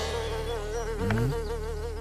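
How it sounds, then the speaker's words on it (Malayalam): A housefly buzzes close by in a dramatic movie scene, its drone steady and wavering in pitch, briefly swelling louder midway with no talking over it. "ഈച്ച."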